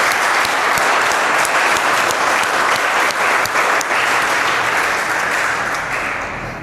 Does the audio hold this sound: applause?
yes